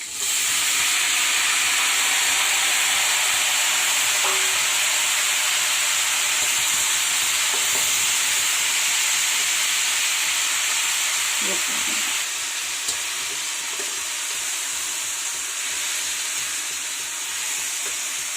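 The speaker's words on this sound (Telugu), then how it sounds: "ఇప్పుడు టమాటా ముక్కలు వేసుకోవాలమ్మా." Tomato pieces go into a hot pan for tomato chutney, giving off a strong, steady hissing sizzle with steam. The hiss stays loud and even for most of the span, with a few faint clinks of handling.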